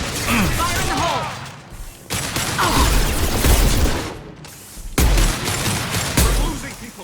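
Grenade blasts in the Mass Effect 2 video game, several heavy booms bursting in sequence amid combat noise and mechanical clatter, with a shouted warning underneath.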